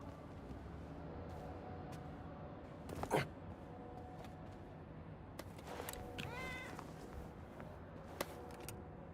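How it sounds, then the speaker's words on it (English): A house cat meows a few times, short rising and falling cries at moderate distance over quiet room noise, with a sharp click and soft clatter in between. "Aw, kitty."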